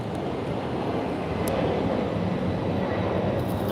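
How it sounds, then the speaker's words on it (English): An airplane taking off roars as a steady, broad, distant engine rumble that holds at an even level throughout. "I don't know if you guys saw that plane take off."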